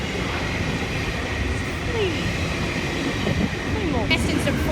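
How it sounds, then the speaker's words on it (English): A train passing in Sydney, a loud close continuous rumble and rattle of wagons with faint wheel squeals and a brief high screech near the end, while people talk quietly over it. "Oh, there was another train"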